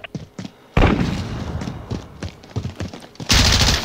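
Gunfire in a Call of Duty: Modern Warfare multiplayer match: two loud bursts of shots, one early and one at the end, with scattered thuds and clatter between them.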